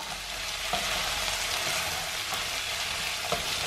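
Spicy paneer samosa filling being stirred in a hot pan, with a loud, steady sizzle and a few soft scraping strokes up close, no talking.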